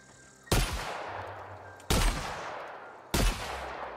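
Three heavy, booming shotgun blasts in the video game The Outer Worlds, evenly spaced about one and a half seconds apart, each loud and close with a long decaying tail and no talk.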